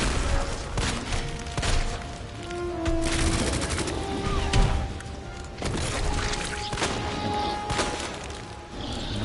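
Handgun shots ring out in Resident Evil 2 during Claire's finale boss fight, a string of sharp reports and booms spread over several seconds amid dense game sound effects and music.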